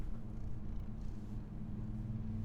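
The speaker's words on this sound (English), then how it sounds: "he's purring" A cat named Kiwi purrs close up, a soft, steady low rumble with even rhythm and no voices over it.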